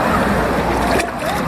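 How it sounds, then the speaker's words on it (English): Medium waves roll and wash through a crowded wave pool at a water park, a broad steady surf roar with wind buffeting the microphone, briefly dipping near the end. "You can use floaty tubes, and there's no big waves. It's just all big-ish waves. Medium waves."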